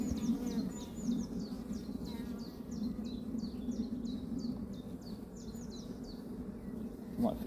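Bees buzz around a hive entrance during a colony inspection, a continuous low droning hum close by, with repeated bird chirps sounding in the background.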